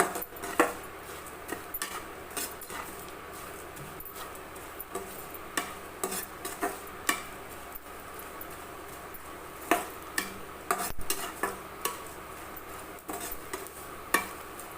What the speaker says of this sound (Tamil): இப்போ இது நல்லா வறுத்துருச்சேன் நல்லா மொறு மொறு மொறுன்னு வறுத்துருச்சு